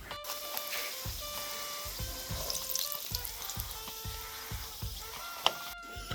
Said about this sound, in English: It's getting pretty dangerous at the moment because the oil is popping everywhere.